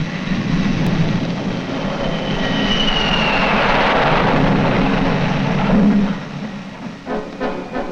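A jet aircraft waves off over the aircraft carrier USS Forrestal, its engine roaring loud and close, building to a peak and then fading as it passes away.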